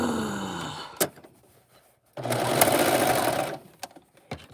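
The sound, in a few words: serger overlock machine sewing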